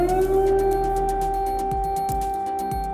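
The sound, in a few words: air raid alarm sirens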